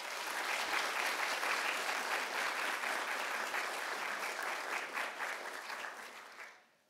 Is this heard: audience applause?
yes